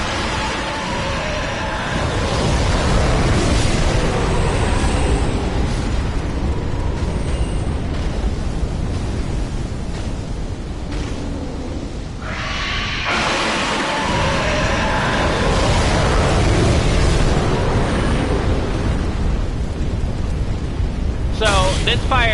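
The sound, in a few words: dragon breathing fire in Dark Souls 3 video game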